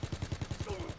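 Rapid automatic gunfire in a WW2 zombies shooter, about nine evenly spaced close shots in one second with a rhythmic thumping pulse.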